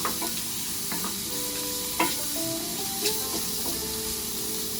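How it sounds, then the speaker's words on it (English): Squid sizzles in a frying pan with cooked onion and garlic, a steady close hiss of frying broken by a few sharp clinks and scrapes of stirring. "Now we are going to add our seafood. So first squid."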